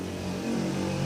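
A motorcycle rolls past close by, its engine giving a steady, droning buzz that swells slightly toward the end of the brief moment.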